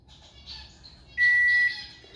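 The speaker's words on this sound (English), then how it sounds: "That's all one bird, that noise." A single wild bird calls from nearby outdoors, giving a steady run of high, thin tonal notes with one louder sustained whistle in the middle.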